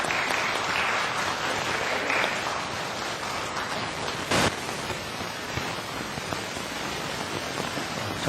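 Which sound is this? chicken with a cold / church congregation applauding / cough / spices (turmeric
church congregation applauding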